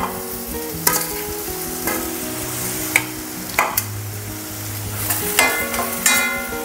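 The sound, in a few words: ivy gourd frying and being stirred in masala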